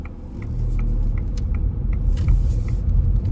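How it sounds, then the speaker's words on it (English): A car draws near on a narrow road built for horse and carts, a low rumbling engine heard from inside a vehicle, steady and moderately loud with a soft repeating tick on top. "Now there's a car coming up that way, coming in the middle."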